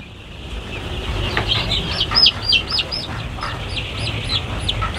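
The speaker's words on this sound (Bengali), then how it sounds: "মুরগি তো চঞ্চলতা আছে" Eight-day-old Color Bird chickens on a poultry farm give a rapid stream of high, overlapping peeps and cheeps, growing busier midway and continuing steadily over a low background rumble.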